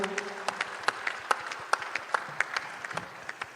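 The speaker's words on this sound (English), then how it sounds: "a big round of applause to all of them" Scattered clapping from a small crowd at a live concert at the Republic Plenary Summit 2025, a sparse round of applause with distinct individual claps, fairly quiet and steady throughout.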